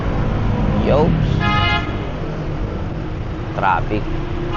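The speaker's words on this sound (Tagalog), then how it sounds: "Traffic. Rush hour ngayon eh." Rush hour road traffic heard from a rider's position, a steady engine rumble with short car-horn toots at two moments, a nearby voice talking over it.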